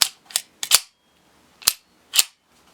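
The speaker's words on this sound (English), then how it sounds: "It's a joy to shoot, and you can hear the difference in lockup." A 1911 pistol with a fiber optic sight fires five sharp, close shots in an uneven rhythm: three quick reports, a pause, then two more, with no talking.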